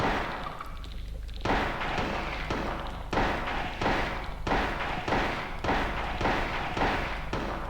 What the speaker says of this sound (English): Let's turn around and shoot them.